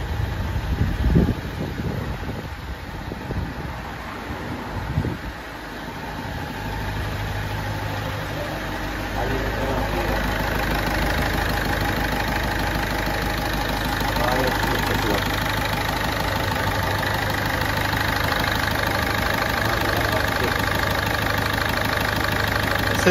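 Ford Fiesta engine idling after a complete overhaul, a steady, even hum close by, with voices speaking over it at times.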